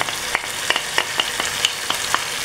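A garlic clove goes into fava beans and small onions frying in a pan, over a continuous sizzle with a regular series of sharp spoon taps and scrapes as everything is stirred.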